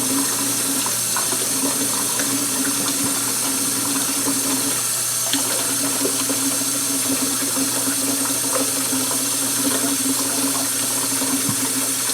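Liquid pours steadily from a tap into canning jars, set up for pressure canning carrots, a constant close rushing flow with a low background hum and faint clinks, no speech.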